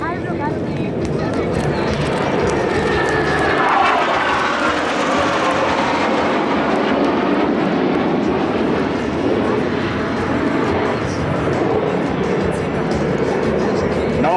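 Black Eagles jets of the Republic of Korea Air Force fly a display at the Singapore Airshow, a loud, continuous engine roar sweeping overhead while a commentator talks over the PA.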